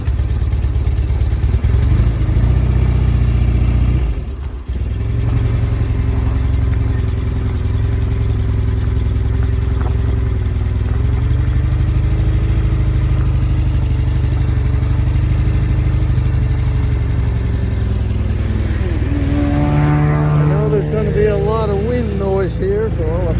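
1969 Norton Commando motorcycle engine running loud and close as it is put in gear and ridden down a driveway, a steady throb with a brief dip early on and rising revs near the end.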